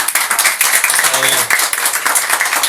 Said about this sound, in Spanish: Un aplauso a Rodrigo, por favor